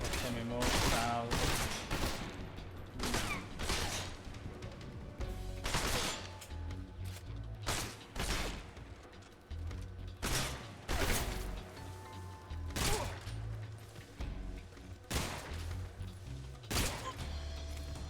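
Rapid gunfire bursts from the Metal Gear Solid Delta: Snake Eater video game, loud repeated volleys and shots across the whole stretch, with game voices talking between them.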